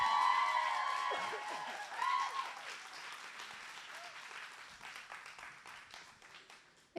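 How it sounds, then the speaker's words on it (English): An audience at a spring showcase breaks into a round of applause, loud at first with some cheering, then gradually thinning into scattered claps. "So can we give her a round of applause?"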